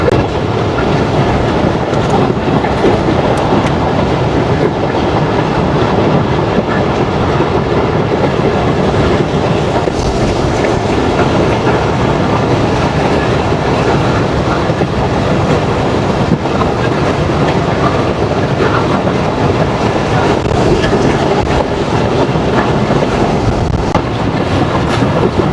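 A commuter train crossing the long Rupsa rail bridge towards Khulna, heard from on board: a loud, continuous rumble with steady rhythmic clickety-clack of wheels over the track and no voices.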